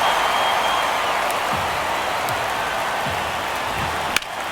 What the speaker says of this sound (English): Crowd locked in right now.